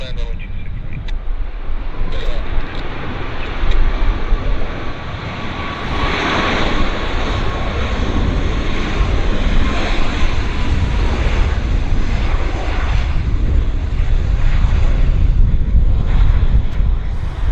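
An airplane landing at Vancouver airport: a loud, steady roar of aircraft engine noise with wind buffeting that persists throughout, with no voices.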